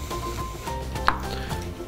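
Fresh green onion is chopped at an angle with a knife on a board, a quick series of light, close taps at a steady rhythm.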